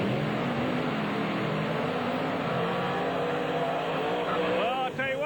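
A monster truck makes its run at a 1996 truck and tractor power event in Springfield, Missouri. Its engine gives a continuous, loud, distant roar over crowd and arena noise throughout.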